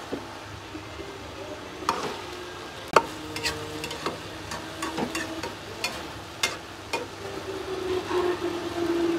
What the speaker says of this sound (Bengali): পুরা আমি নেড়ে দিচ্ছি, আলু সেদ্ধ হয়ে আসছে